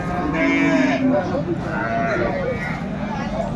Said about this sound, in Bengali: গাভী বাচ্চুর